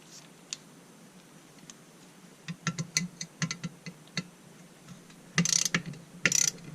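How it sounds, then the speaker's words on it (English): A ratchet tightening the muffler bolts on a Farmertec G660 chainsaw, quiet at first, then rapid bursts of ticking clicks, with two denser, louder runs near the end. "all you gotta do is torque those, and the muffler's installed"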